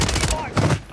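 Video game gunfire bursts out in rapid, loud, dense volleys at close range over about a second, with a faint voice underneath.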